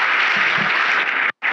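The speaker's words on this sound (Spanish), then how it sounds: "les pido que le den la más cordial bienvenida, un aplauso para ella." Audience applause welcoming a guest speaker at a socio-emotional education talk, a dense steady clatter of clapping that cuts off abruptly near the end, then a short final burst.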